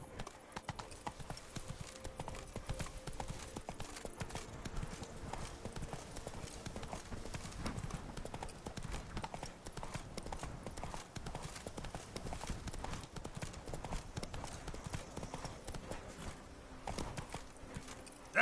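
Hooves of Roach, Geralt's horse in The Witcher 3: Blood and Wine, clip-clop in a fast, steady galloping rhythm throughout, close and prominent, with faint game ambience beneath.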